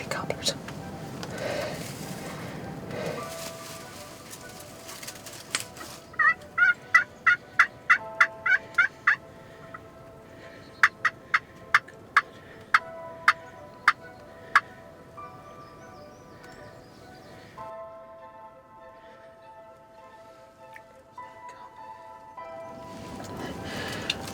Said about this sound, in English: Gobblers coming, three of them straight at us. Big gobblers.